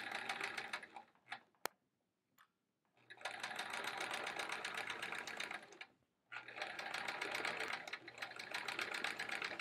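A sewing machine stitches a chevron quilt in two long, steady runs of rapid mechanical whirring and clatter, separated by pauses with a sharp click and a brief tap, close and loud.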